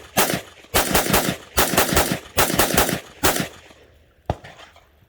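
An FN 5.7 pistol fires Speer Gold Dot 5.7x28mm rounds in five loud, sharp shots in rapid succession, each with a short echoing tail, followed by a fainter metallic clack near the end.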